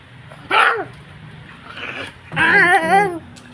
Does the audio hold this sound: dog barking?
yes